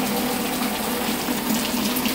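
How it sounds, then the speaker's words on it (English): Rainwater splashes and pours steadily from a trash can nearby, making a dense, continuous gushing wash like running water. "the rain is still splashing over here from that trash can over there."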